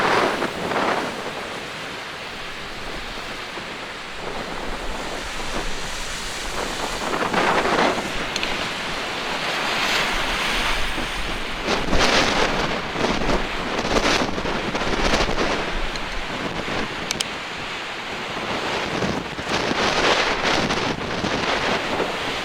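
A storm drives strong wind and crashing waves along a coast, a steady loud roar with surges of surf breaking and gusts buffeting the microphone, with no talking.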